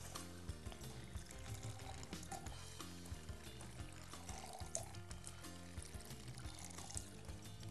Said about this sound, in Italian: Prendiamo tre mixing glass nei quali andiamo a versare le basi del daiquiri